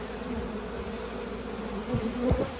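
A close swarm of honey bees hums continuously as they clean spilt honey off freshly framed comb in a Layens hive, with a couple of brief louder passes of individual bees near the end.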